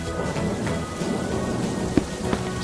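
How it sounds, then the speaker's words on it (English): Steady rain hisses down continuously, with a couple of faint drips or taps standing out against the wash. "It's raining, and Peppa spots her rainbow umbrella."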